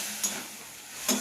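Ridge gourd stir-frying in a pan with salt and spice paste, a soft steady sizzle broken by two brief scraping stirs, close and alone.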